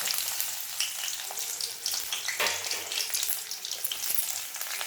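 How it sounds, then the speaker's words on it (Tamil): Steady, crackling sizzle of small diced onions frying in hot oil, close and continuous, with occasional stirring scrapes and no voices. "வெங்காயம் நல்லா வதங்கிடுச்சு."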